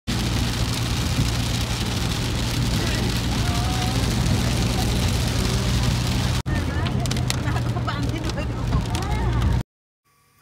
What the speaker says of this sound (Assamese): এতিয়া গৈ থাকোঁ বৰষুণৰ মজালৈ লৈ